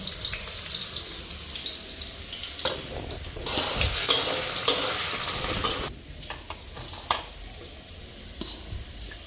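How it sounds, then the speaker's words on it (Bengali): Boiled dried fish (shutki) strained by hand in a kitchen, with wet stirring, splashing and scraping of pot and strainer, water running in bursts, busiest in the middle and easing toward the end, no talk. "আর এখন এদিকে শুটকিটা ছাইকা নিই"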